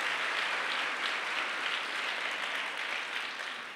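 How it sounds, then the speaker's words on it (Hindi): Congregation in a church service clapping together, a dense, steady wash of applause that holds evenly throughout and fades slightly at the end, with no talking. "ताली बजा के परमेश्वर को धन्यवाद करो"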